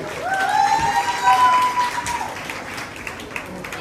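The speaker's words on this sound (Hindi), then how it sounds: "ताली हो जाए" An audience at a school Teacher's Day program breaks into a short burst of clapping and cheering with whistle-like tones, loudest in the first two seconds and then trailing off, with voices mixed in.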